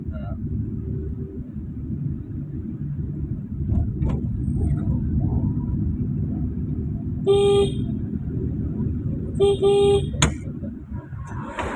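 A car idles and maneuvers on a road with a low, steady engine rumble, while horns toot briefly in the middle and toward the end.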